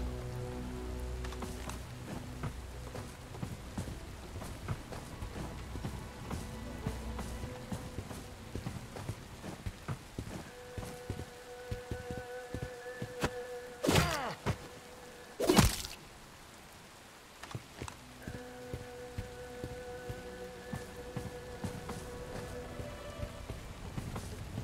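Steady rain falls in the video game Bright Memory: Infinite, a constant hiss that runs for the whole stretch, with low rumbling and a few sharp louder bursts near the middle and scattered tonal game sounds.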